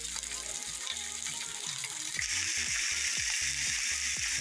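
Peppers and onion hiss steadily as they fry in a pan for beef steak fajitas, the sizzle swelling louder partway through over a low tonal background.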